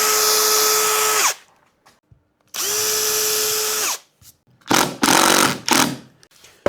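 A power screwdriver drives screws into the undercap of a Les Paul Junior guitar body under construction: two steady whirring runs of about a second each that wind down, followed by several shorter, rougher bursts, close and loud, with no talking.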